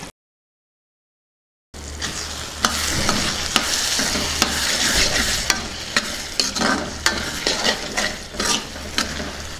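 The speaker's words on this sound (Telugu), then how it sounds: "ఒకసారి బాగా కలుపుకుందాం ఇందులో కొద్దిగా కొత్తిమీర వేసుకుందాం" A spoon stirs green pea curry in a hot pan, steady scraping and sizzling with sharp clinks against the metal, close and continuous with no talk.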